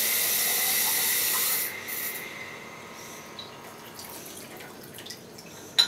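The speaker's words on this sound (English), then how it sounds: "Fill it up with water to the very brim." Water pours into a pickle jar holding a dive computer, filling it to the brim: a steady loud rush for nearly two seconds, then a quieter trickle with faint drips and one sharp splash or clink at the end.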